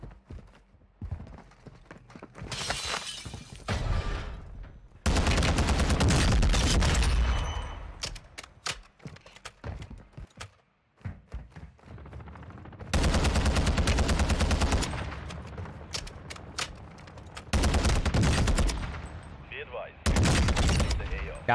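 Akimbo Desert Eagle pistols are fired in Warzone 2 in several loud, rapid volleys of sharp shots, separated by quieter stretches with some voice and game sounds between them.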